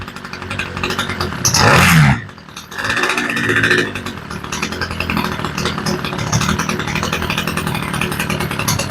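A Homelite string trimmer's small two-stroke engine, fitted with a new carburetor, revs loudly for a moment, drops, then settles into a low, buzzy idle that runs steadily up close.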